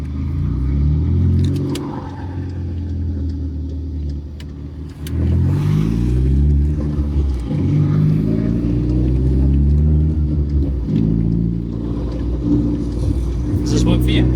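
A modified VW Polo fitted with a Silvia JDM engine drives past on a service road, its loud, steady engine note rising and falling as it revs, with people talking over it throughout.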